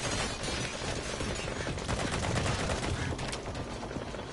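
Dense, continuous crackle of gunfire in the online game Metal Gear Online, many overlapping shots blending into a sustained noisy barrage with no talk on top.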